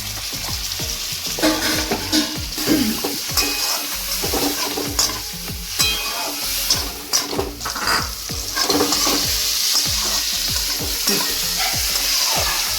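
Tomatoes frying in spiced oil in a pan for a potato dish, with a constant loud sizzle and repeated scraping stirs of a spatula against the pan, close up.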